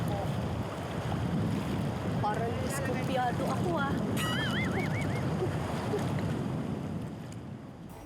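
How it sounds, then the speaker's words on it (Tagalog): Rough ocean waves churn off Catanduanes and wind buffets the microphone while a person talks nearby; the rushing surf stays loud, then eases toward the end. "Parang malakas ang alon dito."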